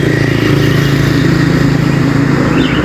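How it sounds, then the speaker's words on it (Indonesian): A bus approaches on a road with a loud, close, steady engine rumble and low throb that holds through the whole moment without talk. "Satu unit bus menuju arah ke sini ya teman-teman ya."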